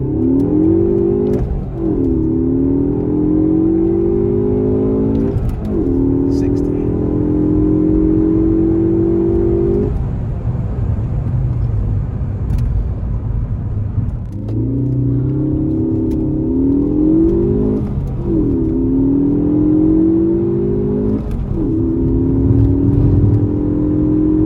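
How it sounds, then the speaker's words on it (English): A Ford Focus ST pulls hard from a roll through several gears, engine note climbing steadily in each gear and dropping at every upshift, loud and close throughout with no talking. "I'm gonna kind of roll into first and do a quick 0 to 60 run for you guys"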